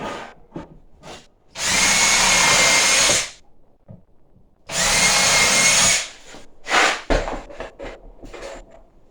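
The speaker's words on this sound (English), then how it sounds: "I'm drilling it so I don't split the board on the bottom here." A power drill whines through a wooden board, pre-drilling for screws on a firewood box, in two sustained bursts, with light clatter and handling noises between them.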